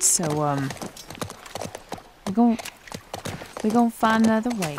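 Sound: horse hooves clip-clopping in a video game

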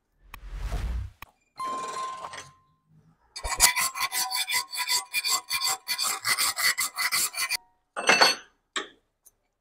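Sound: filing a chisel edge

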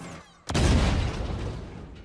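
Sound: explosion in Halo video game

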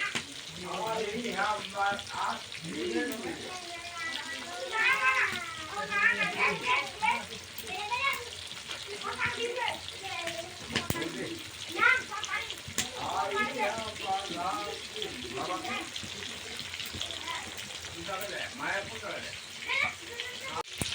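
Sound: fish frying in a pan

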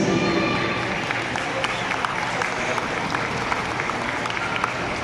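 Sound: crowd applause at children's day event

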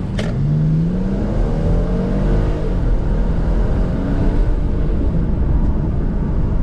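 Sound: Mercedes E400 coupe accelerating in sport mode

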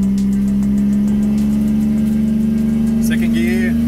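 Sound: modified car engine accelerating on track

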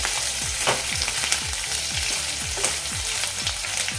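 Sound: dried bombil fish roasting crisp in a pan

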